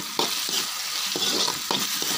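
Chopped onions and tomatoes sizzle in a hot pan while a spoon scrapes and stirs them in a few distinct strokes, close and continuous, with no talking.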